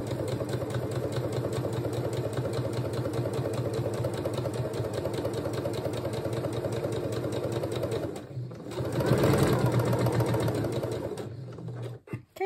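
A sewing machine stitching a single layer of fabric around a blouse neckline at a 2.5 stitch length, running steadily with a fast even whir and rhythmic needle chatter, briefly pausing and then resuming.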